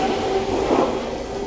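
A Fukuoka city train rumbles past steadily, a brief, fairly loud low drone with a faint tonal whine from the rails and no talking.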